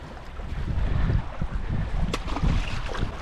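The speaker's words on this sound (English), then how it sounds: "Windy day." Gusty wind over Lake Waihola, New Zealand, buffets the microphone in low rumbling surges, with faint water sounds beneath and no talking.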